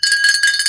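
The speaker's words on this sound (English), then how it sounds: "Where's my bell?" A small desk bell rings to welcome a newcomer at a crafting gathering, one bright, sustained metallic ring lasting under a second, loud and close with no talk over it.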